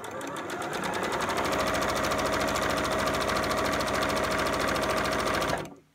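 A sewing machine runs a continuous straight stitch around a scrubs bag, its fast even whir and needle clatter loud and close for several seconds before stopping abruptly.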